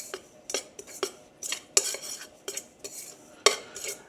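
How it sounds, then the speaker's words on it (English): Dry muffin ingredients, including baking powder and salt, stirred with a utensil in a bowl for keto chocolate cinnamon muffins: a steady series of close, sharp scraping clinks against the bowl, about two strokes per second, with no talking. "And then we're just gonna stir that around, make sure everything's relatively uniform."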